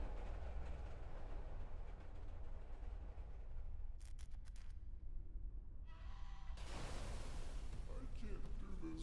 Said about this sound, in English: The baby got hit by an invisible train.